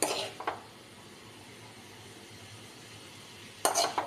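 A spoon stirs koorka mezhukkupuratti and scrapes it from a pan into another dish, giving a couple of short metallic scrapes and clinks at the start and again near the end, with a quiet pause between.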